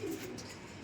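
A pigeon perched outdoors in the morning coos softly at close range, a low burbling call at the start that trails off into quiet background.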